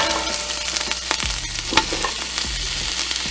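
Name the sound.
carrots added to hot pot, sizzling for turkey broth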